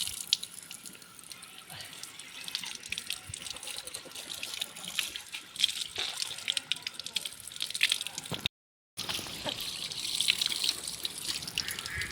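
Water runs steadily from a solar-powered tap on a farm where clothes are brought for washing, a continuous broad splashing flow with a brief dropout near the end and faint background activity.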